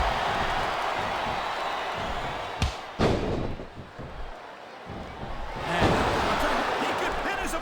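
Arena crowd noise in a wrestling video game, a dense roar from a packed capacity audience with a few thumps and slams, swelling and dipping steadily throughout.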